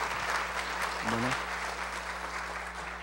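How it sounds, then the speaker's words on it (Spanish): An audience applauds a lawyer from Córdoba, Argentina, as he takes the microphone at a human rights reform event. The clapping is steady and fills the whole stretch, and a brief spoken word cuts through it partway. "Ustedes son demasiado buenos, porque me están aplaudiendo antes de escucharme."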